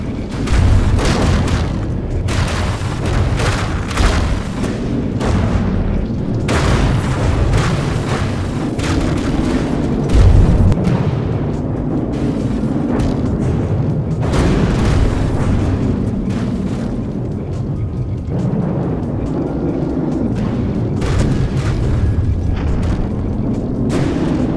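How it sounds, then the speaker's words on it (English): Tank shells striking and glancing off an armored vehicle hull in a video game, a dense run of loud booming impacts and blasts with heavy low rumble continuing through the whole stretch. "You can see the shells. They're just bouncing right off the hull."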